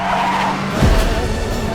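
In a Korean drama scene, a car skids into a rollover crash: a loud tire squeal and rushing engine noise build, then a heavy low thud and rumble as the vehicle tumbles, all close and without talk.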